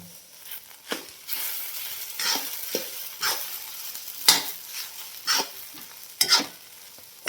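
A spoon stirs a mixture with crushed peanuts in a pan, scraping and knocking against the metal in irregular bursts over a low frying hiss, fairly close and loud, without any talking.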